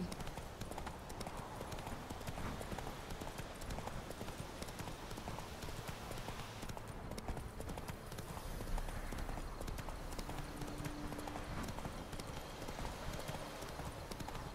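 A horse gallops in The Witcher 3: Wild Hunt. Its hooves beat in a continuous, even clip-clop over a steady background din, with faint voices in places.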